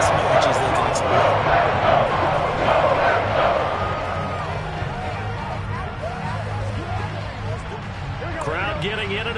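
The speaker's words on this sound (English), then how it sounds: "Crowd getting in it a bit already" A stadium crowd cheers in a football video game, a broad, steady roar of many voices that swells early and then settles slightly, with a commentator talking over it throughout.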